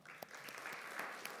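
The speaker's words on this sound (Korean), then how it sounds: "박수 보내겠습니다." A church congregation claps at a Sunday worship service right after a closing prayer, with steady, dense applause throughout and a few sharper claps standing out.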